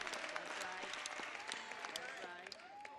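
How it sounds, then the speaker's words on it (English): Hands clap in a church congregation, a dense, fairly faint patter that runs steadily throughout while a voice talks over it. "You see some of these black hands clapping."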